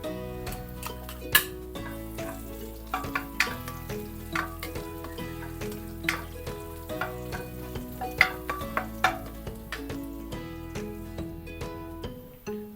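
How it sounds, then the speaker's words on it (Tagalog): Six cloves of minced garlic and chopped ginger sautéing in hot oil in a pan, a continuous close sizzle broken by repeated scraping and clinking stirs of a utensil against the pan. "Ilagay na natin itong 6 cloves na minced garlic. Then, sabay na rin natin itong luya."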